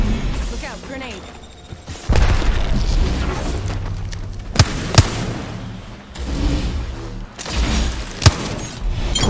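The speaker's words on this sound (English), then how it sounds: "Look out, grenade." A grenade goes off in a first-person video game: several sharp booms and thuds punctuate the action, with voiced game callouts and player talk running between the blasts.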